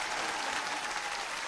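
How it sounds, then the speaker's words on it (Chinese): An audience at a Shandong kuaishu comic storytelling performance claps in a dense, steady burst of applause, fairly faint and distant, lasting the whole short moment. "给点掌声"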